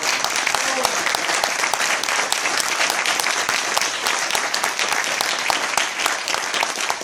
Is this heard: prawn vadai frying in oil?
no